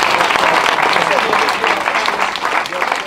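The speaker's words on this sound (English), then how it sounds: "A round of applause." An audience at a community gathering gives a round of applause: a short burst of steady, fairly loud clapping from a crowd, lasting a few seconds, with faint voices mixed in.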